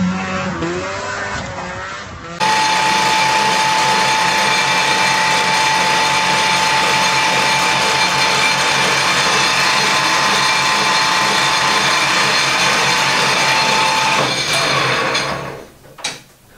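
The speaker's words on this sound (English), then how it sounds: "these gears rubbing together very slightly" Gears in a Colchester Student lathe rubbing together as it spins up after a three-phase to single-phase VFD conversion, making a loud continuous grinding whir with a steady whine that holds for about twelve seconds, then winds down and stops.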